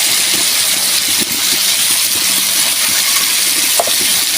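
Onions sizzling as they fry together with already-fried crab in a pan for a spicy crab curry, a steady, loud, close hiss of hot oil running continuously without talk.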